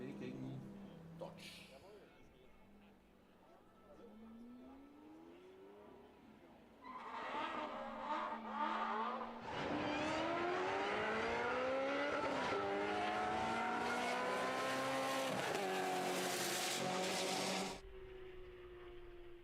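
BMW and Dodge Hellcat race cars line up at the start of a motorsport event, with engines revving in rising and falling sweeps and then a loud, sustained roar as they launch, heard under talk.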